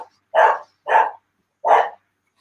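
A dog barks three times in an uneven rhythm, each bark loud, close and short, with silence in between.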